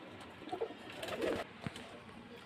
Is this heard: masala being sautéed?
no